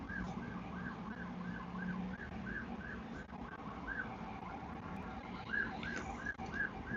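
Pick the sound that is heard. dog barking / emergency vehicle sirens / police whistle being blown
emergency vehicle sirens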